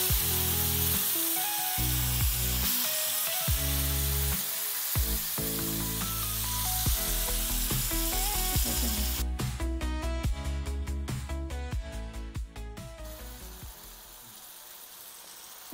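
Kadam pieces hit hot oil with a bay leaf and five-spice seeds, giving a loud, steady sizzle that dominates throughout, with a few tonal interruptions partway and the frying fading slightly toward the end.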